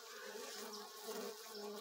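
Scout honey bees buzzing around a bait-scented swarm trap outdoors, a steady faint hum of many wings with occasional individual bees passing closer.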